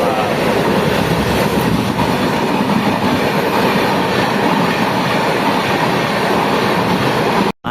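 Passenger train bound for Khurda passing close by on the track, a loud continuous roar of wheels and carriages with rhythmic clatter, cutting off abruptly at the end.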